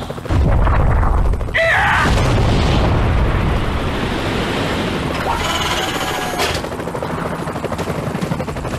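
A rocket launcher blast in Resident Evil 4 VR, during the fight against Krauser, hits with a loud, booming explosion at the start, followed by a long rumbling roar and crackling game noise.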